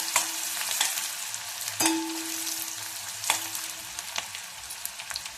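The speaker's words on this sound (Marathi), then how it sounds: "आता या कांद्याला आपण एक मिनिट बरंच परतून द्यायचं." Sliced onions frying in a hot pan, sizzling steadily while a spatula stirs and scrapes, with several distinct clinks of utensil against metal spread through the clip.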